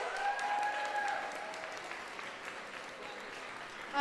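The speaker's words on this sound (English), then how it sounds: "can we get a round of applause for Lego Vader, wherever he is?" An audience at a museum costume show applauds a Lego Darth Vader costume, moderately loud clapping at first that thins and softens, with a faint tone and brief crowd noise.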